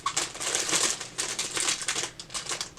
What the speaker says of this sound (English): I'll do my best to not talk while there's crinkling